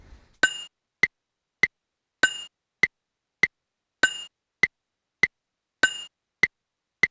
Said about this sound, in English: here's the metronome beats for the 3/4 time